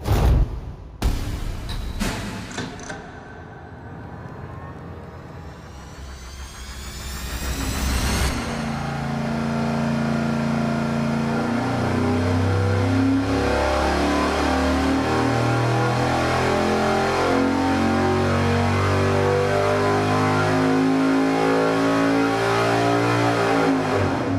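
A racing V8 engine on a dyno during a baseline pull, tuned to 35 degrees of total ignition advance. A few loud blips up front, a brief lull, then a long, loud climbing roar that holds steady to the end.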